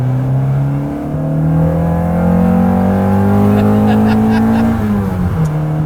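A 240 hp all-wheel-drive MINI drives under load, its engine note climbing steadily in pitch across several seconds before easing off, loud and close from inside the car.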